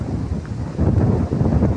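Strong wind buffets the microphone at a paragliding site, a loud, steady low roar that swells into heavier gusts partway through, with no voices.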